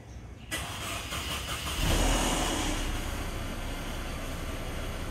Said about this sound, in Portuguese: Eu vou ligar o carro e vou ligar também a ré